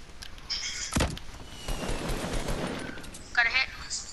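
Video game combat with bursts of gunfire and a sharp RPG blast, over a low rumble of battle, with a player's voice calling out near the end.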